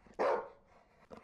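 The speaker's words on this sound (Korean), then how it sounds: "여전히 강아지는 짖었지만 문을 닫은 덕분에 전보다는 소리가 작게 들렸어" A single short dog bark from a dog kept behind a closed apartment veranda door, muffled and moderately soft, followed by a fainter second yip.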